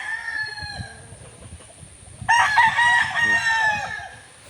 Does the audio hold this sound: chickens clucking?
yes